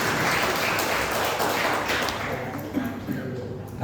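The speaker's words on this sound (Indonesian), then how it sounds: "tepuk tangan buat Ibu Dewi." A stand-up comedy class audience claps steadily, a dense wash of applause that stays fairly loud before thinning slightly near the end.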